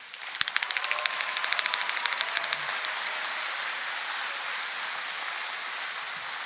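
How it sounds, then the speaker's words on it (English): Audience applause at a commencement ceremony, starting with a few distinct claps that quickly build into steady, moderately loud clapping from a large crowd in a hall, fading slightly toward the end. "Let's give them all an applause."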